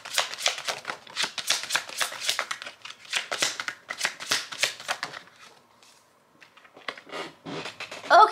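Tarot cards riffled and shuffled in repeated quick bursts, close and crisp, then a pause, a few light slaps as cards drop out, and a brief louder handling noise at the end.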